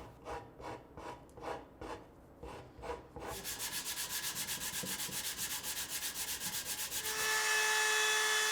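Rhythmic back-and-forth rasping of sandpaper on a wooden workbench leg vise kick wheel, steady strokes that quicken and turn into a continuous power-sander whir near the end.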